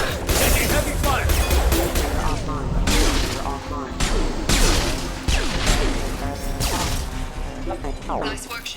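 Heavy, sustained gunfire in the Mass Effect 2 video game, with dense bursts and impacts that go on throughout and a voice speaking over the fighting.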